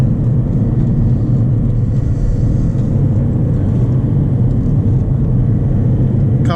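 A 2016 Mercedes A200 under way with its automatic gearbox upshifting, a loud, steady engine and road rumble filling the cabin with no clear break at the gear change.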